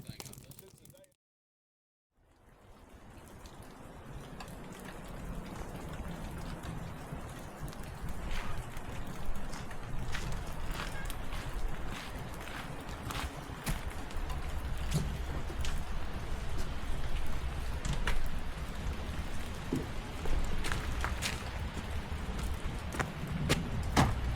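Rain pours during a dual-sport motorcycle ride in Arkansas, a dense steady patter with sharp drops striking nearby, continuous and moderately loud over a low rumble after a brief silent gap near the start.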